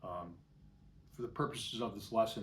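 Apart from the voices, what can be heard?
No distinct noise like a dog, phone or traffic.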